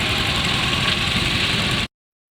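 A garden tractor engine runs steadily at a steam rally, a loud, close, continuous mechanical drone with a rough idling texture that cuts off abruptly near the end.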